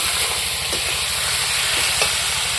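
Onion paste and garlic paste frying with cumin in spiced oil, stirred in a village kitchen for a spicy mutton dish: a steady loud hiss and sizzle throughout, with a couple of brief scraping stirs.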